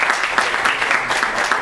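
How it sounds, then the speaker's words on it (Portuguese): Lecture audience applauding a presenter, a steady dense patter of many hands clapping together for under two seconds, loud and close with no talk over it. "uma salva de palmas para o Renato"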